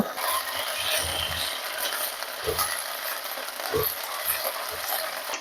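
Ginger and green chili paste tossed into hot oil with five-spice (panch phoron) for a vegetarian potato curry, giving a steady close sizzle with a few soft clinks of a utensil against the pan.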